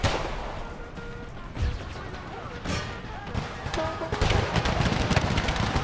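A militia musket volley crackles in Empire: Total War with a Civil War era mod, with scattered gunshots and heavy booms on a busy battlefield, mixed with distant rumble throughout.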